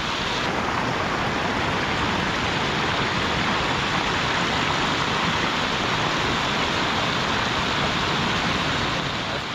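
Heavy monsoon rain pours down in rural Konkan, a dense, continuous roar of falling water that stays loud and unbroken from start to finish, with no voices.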